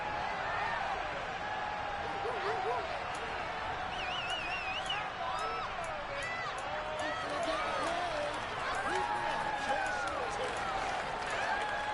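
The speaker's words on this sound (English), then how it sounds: "Plenty of shouts from this crowd as they watch the replay." Stadium crowd in a Madden football video game shouting and cheering steadily throughout, a dense roar of voices with scattered louder yells during a replay.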